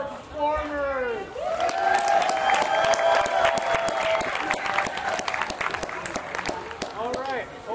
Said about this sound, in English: Let's give a round of applause for all of our performers!